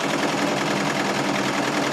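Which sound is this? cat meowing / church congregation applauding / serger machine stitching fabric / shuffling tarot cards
serger machine stitching fabric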